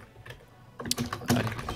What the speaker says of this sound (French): il y a un clavier qui est massacré